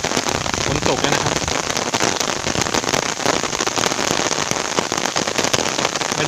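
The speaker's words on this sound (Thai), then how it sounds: "ฝนตกแล้วนะครับ" Steady rain pours onto the surface of a reservoir, a dense, even hiss of countless drops that runs unbroken for several seconds with no voices.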